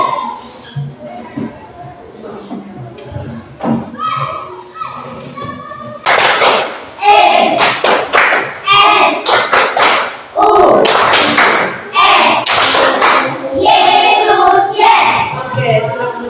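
Children clapping in a group game led by a teacher in a classroom; bursts of clapping and thumps come in rhythmic waves, close and loud, mixed with children's voices and chatter throughout.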